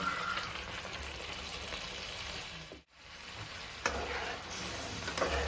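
Cornflour water going into a frying pan of egg chilli: loud, close bubbling sizzle that drops out for a moment, then surges back with crackling, spattering ticks.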